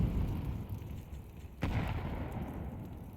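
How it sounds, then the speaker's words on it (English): A flashbang grenade detonating in Counter-Strike on the Nuke map during an ESL Challenger League match, one sudden sharp burst halfway through, rising out of a steady low rumble of game noise. "one flashbang, no real util put behind this."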